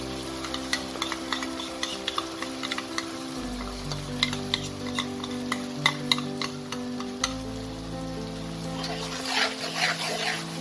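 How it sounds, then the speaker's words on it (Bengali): A yogurt and masala mixture sizzles and is stirred in a pan for a katla fish kalia, with steady frying hiss and repeated scraping strokes of a spoon against the pan throughout. "এটাকেও খুব ভালো করে আমাকে কষাতে হবে।"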